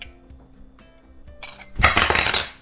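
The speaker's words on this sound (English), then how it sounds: "I dropped my spoon." A dropped spoon strikes a dish with a loud, bright metallic clatter and ringing clinks that fade out over about a second, heard close up with no talking.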